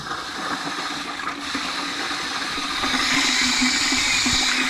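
Water runs steadily through plastic tubing and fittings while filling a homemade automatic watering system for quail and rabbit cages, a continuous rushing hiss that grows slightly louder toward the end, with no talking.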